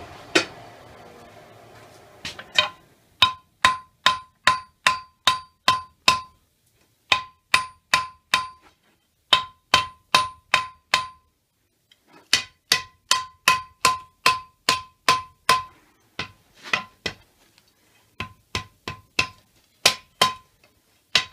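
Hammer striking a Damascus short sword billet during a forge weld, fairly light blows in quick rhythmic bursts of ringing metallic clangs, groups of several strikes separated by short pauses, close and clear with no talking.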